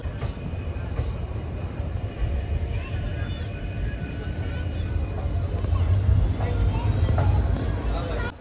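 A passenger train on a Gujarat line toward Mangrol runs with a continuous low rumble that slowly swells louder. Faint squeals and a thin whine ride on top, and voices are faintly mixed in.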